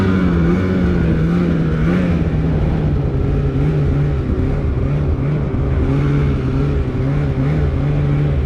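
Polaris Khaos 9R snowmobile engine held in a loud, sustained high rev during a pull at about 6,300 feet, a steady droning whine with a slight rise and dip in pitch.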